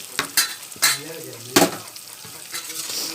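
Eggs stirred with chili powder and salt in a pan make scraping utensil strokes and light clinks over a soft sizzle. A faint voice is heard briefly in between.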